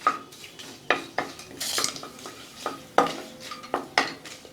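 Star anise, stone flower and cloves sautéing in oil in a pan for mushroom kurma, with repeated metal spoon scrapes and clinks against the pan over a faint sizzle, close and clear, no voices.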